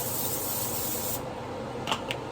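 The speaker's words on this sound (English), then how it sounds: "Pan with some cooking spray" Cooking spray hisses steadily onto a pan for about a second, then cuts off, followed by a couple of faint clicks amid low room noise.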